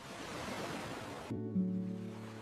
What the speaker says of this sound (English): The sound of waves reached their ears